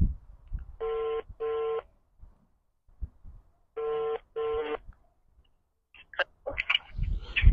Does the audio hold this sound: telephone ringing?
yes